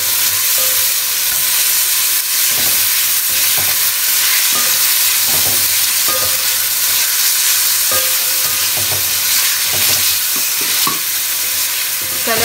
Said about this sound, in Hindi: इसको अच्छे से फ्राई करेंगे कलर चेंज होने तक।